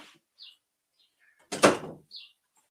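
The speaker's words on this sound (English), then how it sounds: "Let me close the door." A single indoor door closes with a short, moderately loud thud-like rush, while faint bird chirps sound in the background before and after.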